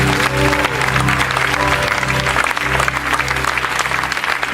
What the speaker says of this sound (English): Clap your hands to the King.